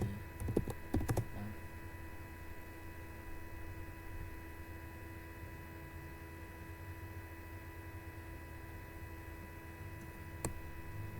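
Typing on a computer keyboard during a network configuration task, a quick flurry of close key clicks at the start, then steady electrical hum with a lone keystroke near the end.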